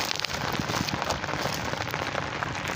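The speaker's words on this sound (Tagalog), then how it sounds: "wala nang tigil ang ulan no?" Heavy rain pouring down on a boat out at sea, a dense, steady hiss that stays loud and unbroken from start to finish.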